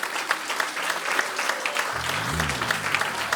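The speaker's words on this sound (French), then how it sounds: "donner vraiment une acclamation au Seigneur" A church congregation applauding during an intergenerational Sunday service, steady sustained clapping from many hands filling the room, with a low voice coming in underneath toward the end.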